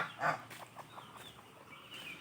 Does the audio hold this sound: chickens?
yes